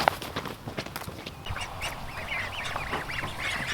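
Young ducklings in a movable duck and chicken tractor give a run of close, repeated quacks and peeping calls, with some rustling and soft thumps underneath.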